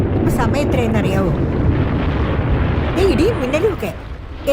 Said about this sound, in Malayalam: ഇടിയും മിന്നലും ഒക്കെ